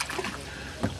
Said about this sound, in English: Are you gonna give us some of your paddling skills?